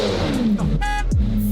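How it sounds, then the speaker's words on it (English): A sports car engine revs loud and close, its pitch sweeping up and dropping back in quick, sharp bursts. "This is the best sounding car on planet Earth, bro."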